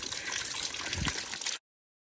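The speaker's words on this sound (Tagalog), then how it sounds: "Tapos, ayan, overflowing ang tubig." Water overflowing and splashing steadily at a mountain campsite, a close, continuous gushing trickle that cuts off abruptly near the end.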